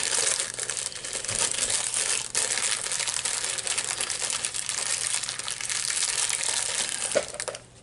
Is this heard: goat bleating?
no